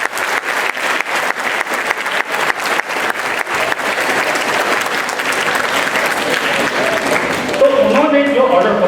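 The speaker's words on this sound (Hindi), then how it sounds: "के लिए तालियां होनी चाहिए।" An audience at a school investiture ceremony bursts into sustained, loud applause that thins toward the end, with a voice beginning to speak over the last second.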